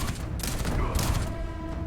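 A shotgun in Starfield fires two heavy, loud blasts about half a second apart over continuous game combat noise.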